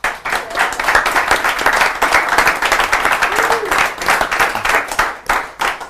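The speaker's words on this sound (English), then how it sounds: "let's have a round of applause." A crowd applauds at an evening networking event, BCW 2019 Mediascape: steady, dense clapping that holds for about six seconds at a fairly loud level, with a few hoots rising through the sound.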